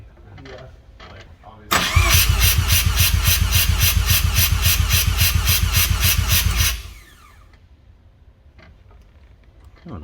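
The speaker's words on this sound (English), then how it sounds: "Alright, compression test time." A Mazda RX-7 FD rotary engine cranks steadily on the starter for about five seconds during a compression test, a loud, even, rapid rhythmic chugging that then stops, with low background noise before and after.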